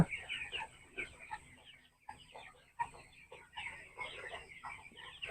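Farm chickens cluck steadily while eating termites that fall to the ground, with soft, busy chatter in short bursts close by and a brief lull midway.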